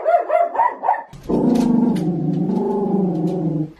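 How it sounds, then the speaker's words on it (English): Dog barking at a cat sitting outside a window: a quick run of sharp, loud barks, then a long, sustained low growl held close and alone for a couple of seconds. "The cat sits outside the window and waits for Maddie to notice its presence, and she's noticed its presence."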